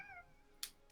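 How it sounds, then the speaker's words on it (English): A cat in New Pokémon Snap gives one short, faint, rising meow, followed by a brief hissing burst, with no voices. "Sick cat noise."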